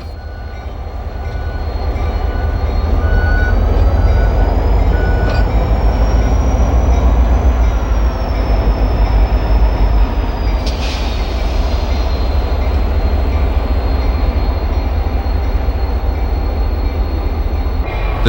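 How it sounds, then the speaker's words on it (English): Amtrak F40PH and GP40 locomotives with trains moving through a busy rail terminal; a loud continuous rumble of rolling wheels builds and holds, with a high whine and a brief metallic squeal midway. "The terminal seems to be extremely busy as locomotives and trains shuffle in pairs through the maze of trackage."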